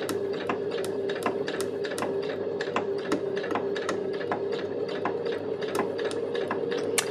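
A sewing machine stitches a straight seam along a fabric edge: a steady whirring hum with rapid, evenly spaced needle ticks, close and continuous throughout.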